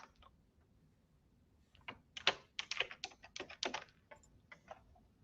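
A password being typed on a computer keyboard: after a quiet start, a quick burst of crisp, close key clicks in an uneven rhythm, with several keystrokes tapering off at the end and no talk.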